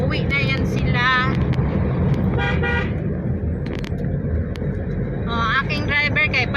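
A car speeds along an afternoon road in Kashmir, its steady, loud road roar running throughout, with several short horn toots sounding in bursts near the start, middle and end.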